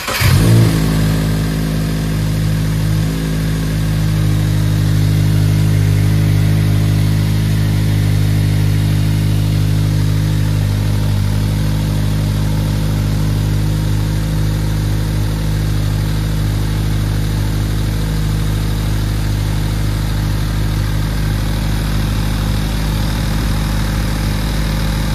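A 2024 Subaru WRX engine runs steadily at a loud, close idle during an oil leak test, starting up at the beginning and holding a constant drone throughout.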